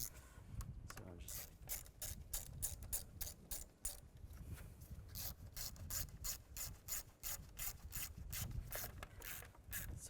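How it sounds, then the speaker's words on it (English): A ratchet clicks rapidly as it tightens small bolts on a fuse box connector during a clutch master cylinder replacement on a 2005-2010 Chevrolet Cobalt, with close, quiet ratcheting in quick bursts and brief pauses throughout. "we're going to tighten all these bolts up"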